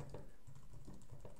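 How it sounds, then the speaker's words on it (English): Rapid, irregular keystrokes on a computer keyboard while entering text into a support ticket message box, a steady patter of close, light clicks heard on their own without any talk. "as I start typing into the main message box here"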